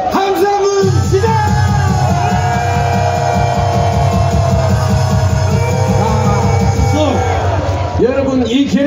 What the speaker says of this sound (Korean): 함성은 시작!